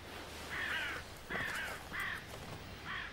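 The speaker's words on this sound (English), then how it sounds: "It's not easy turning down a free lunch, especially to crows." Crows caw in four harsh, drawn-out calls spaced evenly apart, moderately distant over a low wild-forest background in Russia, with no voices.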